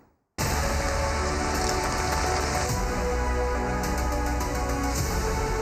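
After a brief quiet start, dense heavy rain suddenly fills the scene in Karachi, a loud continuous hiss of drops pounding surfaces nearby.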